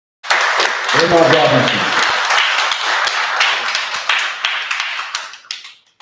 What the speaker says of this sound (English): So give him a big round of applause, everybody.